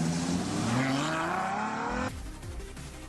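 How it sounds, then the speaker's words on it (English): A 651-horsepower V12 sports car engine revs and accelerates loudly with rising pitch, then cuts to a lower, rougher engine note for the final second. "651 horsepower, this V12 engine has a great look and it's powerful"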